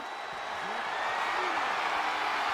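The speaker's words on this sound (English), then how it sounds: "a live crowd doesn't get any hotter than this" Game arena crowd in WWE 2K25 roars steadily at a fairly loud level, a dense continuous wash of cheering with a faint high tone over it and no distinct voices.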